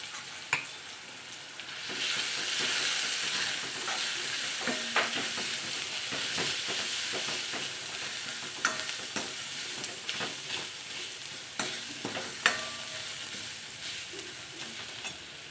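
Tomato with a coconut, garlic and coriander paste sautés in a pan with a continuous sizzle, with frequent clanks and scrapes of a spoon stirring against the metal.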